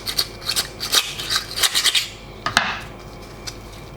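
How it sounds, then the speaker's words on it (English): A metal utensil scrapes a grilled scallop, cooked with soy sauce and butter, off its shell in short close scratchy strokes, a series of quick rasps followed by a sharper scrape and then quiet. "Let's scrape it off from the shell."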